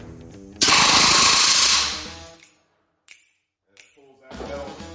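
A pneumatic rivet gun with a bucking bar sets rivets in aluminum panels, giving a loud rapid rattling burst of just over a second that fades out, then silence and a few short clicks and knocks.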